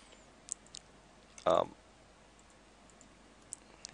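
A single computer mouse click while working in the Shootmania advanced editor, a short sharp tap standing alone against a quiet background, with a few faint ticks around it.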